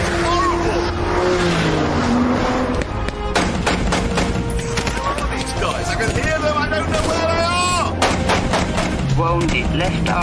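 Rapid gunfire from an eight-man Irish Guards sniper squad cracks repeatedly around a car lapping a village, loud sharp bursts over a steady engine drone, with voices talking throughout.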